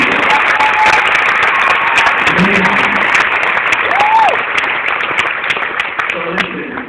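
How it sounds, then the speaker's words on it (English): Concert crowd applauding loudly and continuously, dense clapping from a large audience close by, with a voice speaking over it and some cheers rising and fading toward the end. "And if you don't clap for that, then I don't know."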